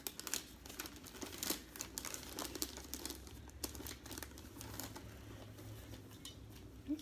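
Wrapping paper being creased and folded around a gift, faint crinkling and rustling with scattered small taps and crackles throughout, quiet and close.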